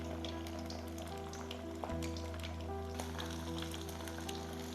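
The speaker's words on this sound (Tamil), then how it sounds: "இப்போது மீன் பொரிஞ்சிட்டு இருக்குதுங்க" Masala-coated rock fish sizzling in hot oil for a South Indian fish fry, a faint, constant crackle with scattered pops and a soft thud partway through.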